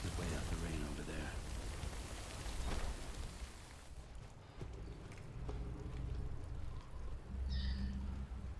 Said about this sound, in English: Could wait out the rain over there.